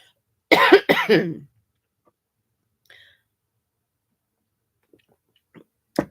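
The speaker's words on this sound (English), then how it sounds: "Sorry for the cough." A short burst of two or three harsh coughs from one person up close, followed by near silence with a few faint clicks and a brief sound at the end.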